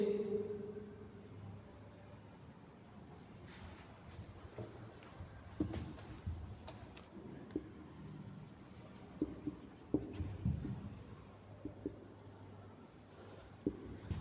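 Chalk or a marker scratches across a board during a logarithm lesson, a faint, close, irregular run of strokes and taps lasting the whole stretch, with no talking.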